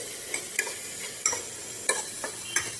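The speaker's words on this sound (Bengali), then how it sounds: "এটাকে ভালো করে ঘিয়ে একটু ভেজে নিয়ে তাহলে উঠিয়ে রাখছি।" Sweet potato frying in ghee and being stirred, a soft continuous sizzle broken by about six sharp scraping strokes of a utensil against the pan, close and alone.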